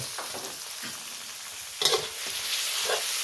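Minced pork with long eggplant, garlic, chili and basil stir-fried in a hot pan, with a steady sizzle and a few scraping stirs of a spatula, close and fairly loud.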